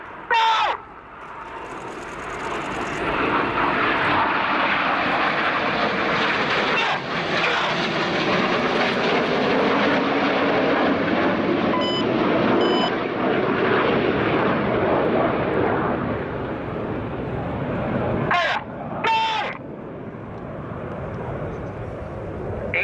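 Red Arrows BAE Hawk T1 jets fly a display at the RIAT 2017 Royal Air Force airshow, their sustained jet roar rising and swelling overhead, with brief sharp bursts at the start and near the end and a commentator talking throughout.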